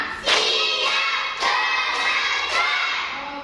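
A classroom of students clapping hands together in unison: three sharp, loud bursts of group claps spaced about a second apart, with no talk over them.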